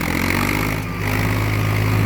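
A loud, steady engine drone with a constant low rumble from a farm tractor running close by, pushing through mud, with no pauses.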